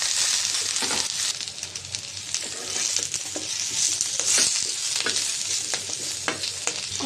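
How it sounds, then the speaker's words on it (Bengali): Garlic and onion fry in a pan with a close, continuous crackling sizzle, broken by frequent scraping stirs and no talking. "রসুন, পেঁয়াজ ভেজে নেব।"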